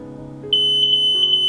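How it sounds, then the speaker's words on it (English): A smart vape detector's alarm goes off when e-cigarette aerosol reaches it, sounding a loud, steady high-pitched electronic tone that pulses slightly, with no talking. "The detector will trigger an alarm, with the red LED flashing rapidly."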